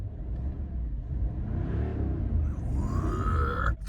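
A car engine revs up under load during a diagnostic check, rising from a low rumble to a climbing whine with a throaty, uneven roar, close and steady throughout.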